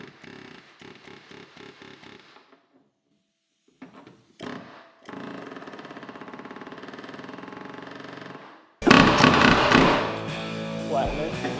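Pneumatic rivet gun setting a solid aluminum body rivet on a Corvette, giving a short buzzing burst followed by a louder, sustained rapid hammering rattle, with lighter taps and clatter before it.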